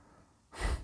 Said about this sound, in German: Da atmet sogar mein Hund durch.